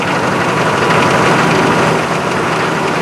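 A GM 6.5 diesel engine runs at high idle, a loud, close, steady droning rumble with a fine rattling texture that holds unchanged throughout, with no voices.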